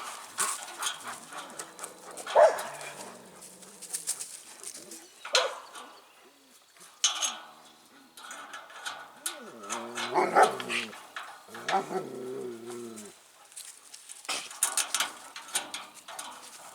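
Dogs bark and whimper at night in irregular bursts of yelps and whines, mixed with metallic clanking and scraping of wire being bent nearby.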